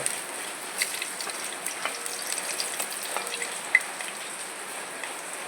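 Dried red chillies fry in hot coconut oil after mustard seeds have popped, a faint, even crackling sizzle with scattered small pops and no talking.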